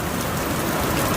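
Steady rain shower during a wet morning, a dense continuous hiss of drops on surfaces, loud and close with no talking.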